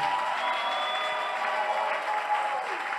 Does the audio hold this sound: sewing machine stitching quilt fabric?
no